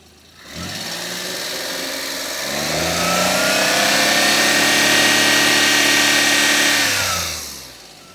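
A used car's engine idles steadily, then is revved up to a higher, sustained pitch for several seconds before easing back down, loud and close with no talking.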